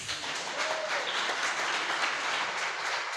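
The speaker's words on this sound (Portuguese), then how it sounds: "Vocês podem aplaudir a Deus?" A church congregation claps together at an evening Sunday service, a steady, fairly soft wash of applause that holds evenly throughout.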